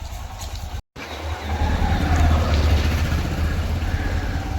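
A motorcycle engine runs close by on a city street in Bathinda, a steady rumbling idle that grows louder after a brief break and holds on at an even level, with no talking.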